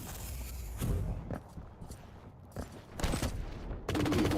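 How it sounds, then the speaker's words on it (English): Railgun shots in the arena shooter Quake Champions, several sharp, loud blasts spaced irregularly over a few seconds amid other gunfire and footsteps of the match. "Kelts is getting the work done with the railgun"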